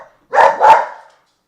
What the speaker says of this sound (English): I'm sorry if your dogs just barked because of mine.